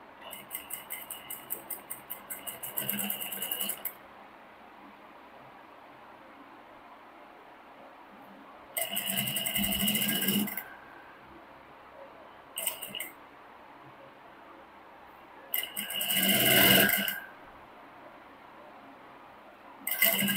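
A sewing machine stitches piping onto the front of a blouse in several separate runs of steady whirring, each lasting a few seconds, with quiet pauses between them.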